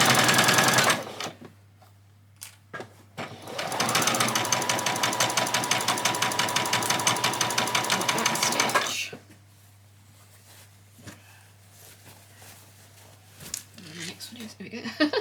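Sewing machine stitching ruffles for a spring outfit, running in one continuous rattling burst of about five seconds between quieter stretches with light handling noises and someone talking.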